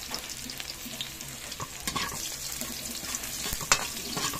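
Garlic and tofu sauté in a pan with a fairly loud, steady sizzle, broken by occasional clacks and scrapes of stirring, and no voices.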